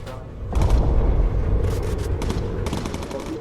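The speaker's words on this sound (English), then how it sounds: "Keep him off us. Focus fire, Osil." Machine gun fire aboard a bomber in Bomber Crew, loud rattling bursts with heavy booming beneath, in two clustered volleys against air combat noise.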